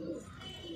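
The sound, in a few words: Punjabi Malwai pigeons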